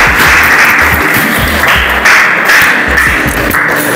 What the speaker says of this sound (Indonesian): Kita kasih aplaus untuk kelompok 2